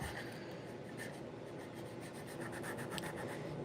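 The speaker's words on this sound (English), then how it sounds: "then we'll start sanding the wheels on this" Steady, continuous abrasive rubbing as someone sands the wheels of a model locomotive bought secondhand, soft and close with faint scratchy strokes throughout.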